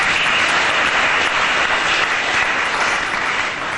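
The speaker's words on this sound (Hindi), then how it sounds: "तालियां बजाइए ध्यान के लिए" A large audience at a spiritual talk on meditation breaks into loud, sustained applause, a thick unbroken roar of many hands that eases slightly at the end.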